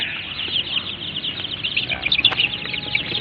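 Parawakan chickens cluck and chatter close by in a busy, continuous flock of overlapping calls, with a few sharper squawks, and no voices over them.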